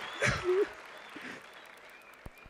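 Audience at a student career event on board exams gives a brief, light round of clapping, with a couple of tonal calls or a voice early on, then fading to sparse claps near the end.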